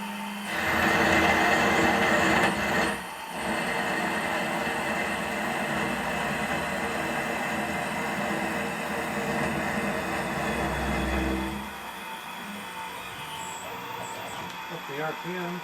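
A milling machine turning steel for a shop-made saw arbor, a loud steady whirring cut that drops off partway and then ends, leaving a quieter machine hum with brief speech.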